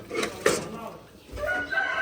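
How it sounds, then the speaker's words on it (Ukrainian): Hens cluck softly in the background while a person speaks nearby, with brief rustling and a low mechanical hum. "Все, вон, бачите, вже кури несуться."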